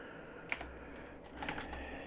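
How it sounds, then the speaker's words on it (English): Quiet typing on a computer keyboard, a few scattered soft key clicks over two seconds against a low background hum, faint and close, with no voices. "Type text, and then give it an ID."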